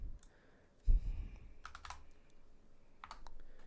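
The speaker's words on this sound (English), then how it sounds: "My mic's kind of in the way of my keyboard." Typing on a computer keyboard at a tuning desk, with a sharp initial clack followed by scattered quick key clicks, close and moderately loud with no talking.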